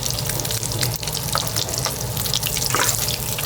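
Meat seared on its sides in a pan, a steady broad hiss of sizzling fat close by, constant and even throughout without speech.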